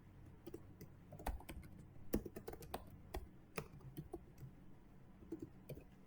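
A Python command is typed on a computer keyboard in quick, uneven bursts of key clicks, faint and close, with no talk over it.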